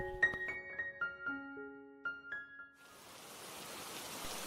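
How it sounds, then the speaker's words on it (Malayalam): Heavy rain pours down at Brindavan Garden in Mysore, a soft hiss of falling water that swells in near the end after a few bright chime-like tones ring out and fade. "വൃന്ദാവനത്തിൽ ഈ തകർത്ത് പെയ്യുന്ന മഴയുടെ ആ ഒരു ഭംഗിയും"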